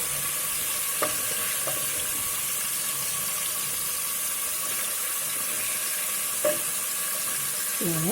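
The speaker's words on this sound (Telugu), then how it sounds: "ఈ ముక్కలన్నీ కొంచెం లైట్గా ఫ్రై చేస్తే సరిపోతుంది." Fish pieces frying lightly in a pan for a fish curry, giving a steady, even hiss throughout with a few faint utensil touches, close and moderately loud, with no voice.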